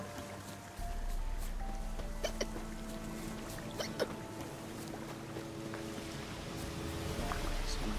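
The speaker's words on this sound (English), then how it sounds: "Some violent hiccups there." A character hiccuping violently in The Witcher 3 near a village pond, several sharp, isolated gulping bursts scattered over steady game ambience and a low background hum.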